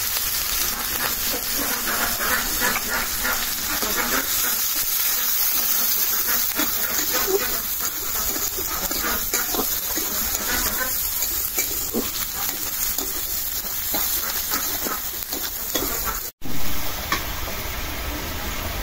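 Onion dropped into a little hot oil for a taro and coconut curry, giving a steady close sizzle with stirring scrapes that runs throughout, briefly cut off near the end before resuming.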